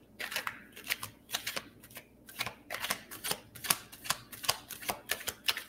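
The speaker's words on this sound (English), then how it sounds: "I'm going to shuffle again." A deck of tarot cards is shuffled by hand in repeated quick riffling bursts, close and crisp, with short pauses between handfuls.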